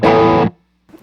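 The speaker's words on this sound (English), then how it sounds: "So that's the Amazon overdrive." A guitar played through a cheap Amazon overdrive pedal gives one loud, thick distorted strum that cuts off after half a second, followed by a brief quiet tail.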